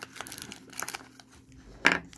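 Paper crinkling while unwrapping a Baby Secrets doll toy, soft close rustles in short clusters followed by one sharper crackle near the end, with no voices.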